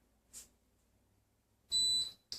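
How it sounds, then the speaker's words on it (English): Short electronic beeps from a 6-quart electric pressure cooker signaling cooking is done: a brief chirp, then a longer high-pitched tone and a final short beep, in a quiet room. "So it's beeping, letting you know that the cooking process is done."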